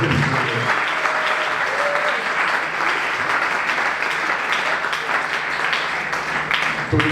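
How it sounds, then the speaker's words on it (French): Audience applause and cheering at a church gathering, sustained dense clapping from a large crowd with scattered voices and shouts mixed in, steady and loud throughout. "Est-ce qu'on peut acclamer encore une fois?"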